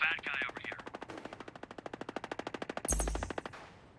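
Machine gun fire in a video game, a rapid burst of about thirty evenly spaced shots, loud and close, ending in a sharp blast with a fading tail.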